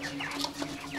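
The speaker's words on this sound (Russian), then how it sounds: "Вот курочки." Faint, soft clucking from a few hens in a quiet indoor room in a village, with short scattered calls over a steady background hum.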